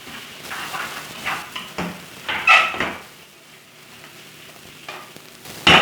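Chicken browns with a teaspoon of chili powder in a pan for Turkish Ankara tava, sizzling and frying steadily while a utensil stirs it in scraping bursts, with a louder clatter near the end.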